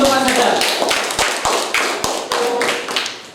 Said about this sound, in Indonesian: Kasih tepuk semangat lagi untuk Mas Adar